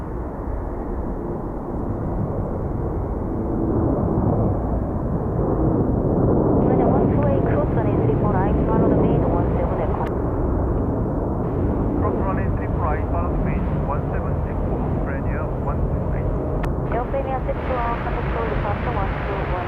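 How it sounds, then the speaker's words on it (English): An Air Premier Boeing 787 jet takes off from runway 34 right at Seoul Incheon, a steady loud engine roar that swells partway through and holds, with people talking over it. "Air Premier 787 rolling out runway 34 right for Da Nang."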